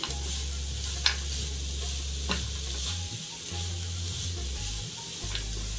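A spoon stirs fried cashews and raisins in a sizzling pan, with a few sharp scrapes over a low steady hum.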